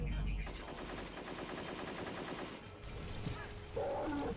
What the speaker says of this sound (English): great that they use the one sound effect for every single gunshot